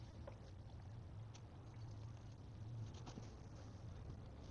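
Motor oil pours through a funnel into the engine of a hybrid Hyundai Santa Fe, making a faint, steady, gurgling trickle with nothing else heard.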